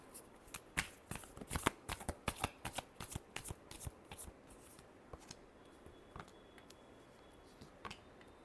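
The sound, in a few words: shuffling tarot cards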